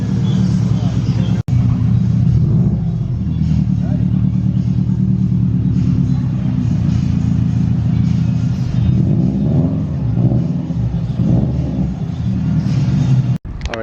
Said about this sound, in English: Boxer power in the Bug-Eye WRX.